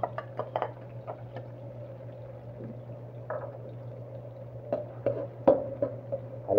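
Onions and garlic stirred in a pan for pancit canton, with scattered metallic scrapes and clinks of a utensil against the pan over a steady low hum, close and moderately loud, no talking.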